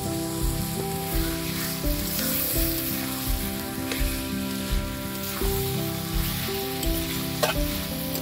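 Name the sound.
mutton with coriander leaves sizzling and being stirred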